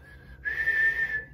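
A person whistles a single steady sustained note, close and clear, lasting about a second with no talking over it.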